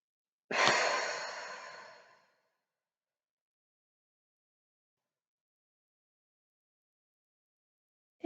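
A single long, breathy exhale during a relaxation exercise, close and soft, fading out over about two seconds and followed by silence.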